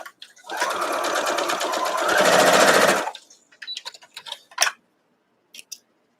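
A sewing machine stitches a quilt block corner to corner in one loud, steady two-and-a-half-second run with a fast mechanical chatter that speeds up toward the end and stops abruptly. Fabric handling and a few light clicks follow.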